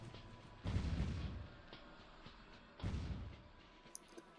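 Tank cannon fire from an M1A1 Abrams in the strategy video game Supreme Ruler Ultimate: two heavy, booming blasts about two seconds apart, each decaying into a rumbling tail, with faint clicks near the end.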